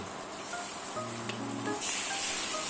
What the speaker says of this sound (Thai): หลังจากนี้ก็ผัดให้หอมฉุยเลยนะครับ